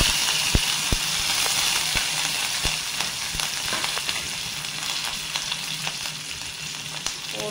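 Mustard seeds, chana dal, curry leaves and dried red chillies sizzle and crackle in hot oil, a steady close frying hiss with scattered sharp pops throughout and no talking.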